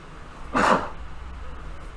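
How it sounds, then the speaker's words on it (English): A single sharp sneeze from a person at a desk, bursting out abruptly near the middle against a quiet room hum and fading quickly. "Sorry about that, guys. I'm sneezing."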